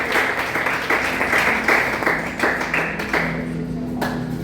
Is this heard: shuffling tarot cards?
no